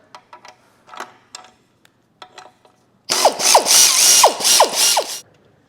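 Ratchet working on the band clamping the catalytic converter to the turbo of a Cruze 1.4L engine: a few light clicks and taps, then a loud, fast run of ratcheting close up.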